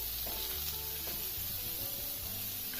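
Radish chutney ingredients with tamarind and salt frying in a pan, a soft steady sizzle with faint stirring scrapes, fairly quiet and without voices.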